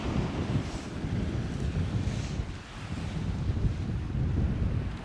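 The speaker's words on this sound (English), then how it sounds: "The wind's coming from left to right with the tide." Strong wind buffets the microphone at the shore of the Bristol Channel, with surf and tidal water rushing beneath it in a loud, continuous roar. No one speaks.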